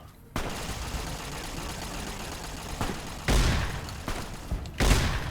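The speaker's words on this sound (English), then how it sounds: "That's the dragon breath rounds." Dragon's breath shotgun rounds fire in Fallout: New Vegas as several loud, sharp blasts spaced irregularly over continuous background game noise.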